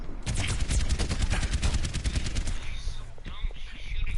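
Rapid gunfire from a video game with snipers and deployable turrets crackles in dense bursts throughout, loud and continuous, then thins out toward the end.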